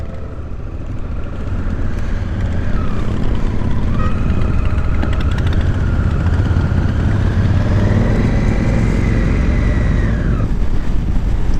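Several motorcycles ride out together in the rain on a rural Alberta morning group ride, a loud, steady blend of engine drone with a rising and falling rev tone over continuous road and rain noise.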